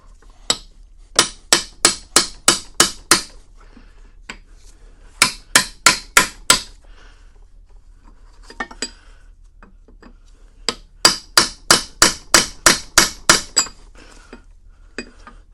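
Hammer taps ring out on metal rods during the teardown of a BW-90 Black Diamond drill grinder, coming in quick bursts of sharp, bright clinks, about eight to ten strikes per burst, with short pauses between.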